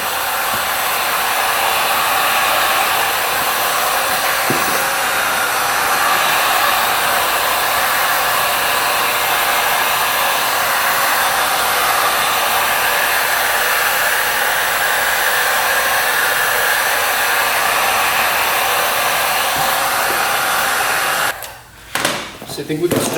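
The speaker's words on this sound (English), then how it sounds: "Heat it up with a heat gun." Heat gun blowing hot air onto seat cover material for a 2-stroke dirt bike, a loud, steady whooshing hum held without pause, then a few brief rustles and dips at the end.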